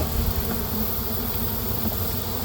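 Bees swarm around neglected, falling-apart hive boxes on a remote property, a dense, continuous buzz that stays loud and even throughout.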